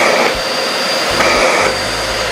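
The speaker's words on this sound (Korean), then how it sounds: "누르면 필터에 있는 먼지를 순간적으로 탕 쳐서" A Bosch GAS 15L dust extractor drones loudly and continuously, its pitch briefly shifting twice as short bursts from its filter-cleaning function punch through the motor noise.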